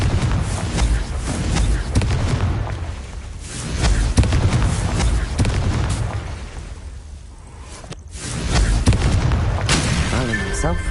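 Explosive Confringo curse blasts in the Hogwarts Legacy game on PS5, booming bursts that recur over sustained rumbling combat noise, with a voice speaking at times.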